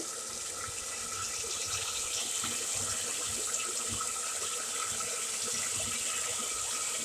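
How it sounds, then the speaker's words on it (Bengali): Dried fish being rinsed under a running tap in a sink, a steady close water stream with splashing throughout. "এখানে শুক্তি ধুয়ে নিলাম পরিষ্কার করে"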